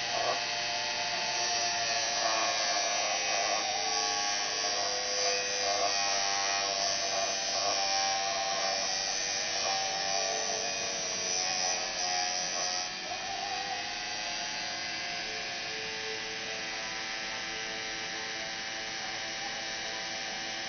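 Salvaged computer hard drive motor spinning while polishing a silver-plated RF connector, a steady close electric whir with a faint rubbing hum that dips slightly partway through.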